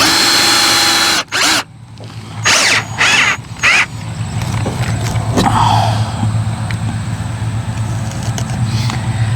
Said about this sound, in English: You might not even be able to bite enough to drill the hole.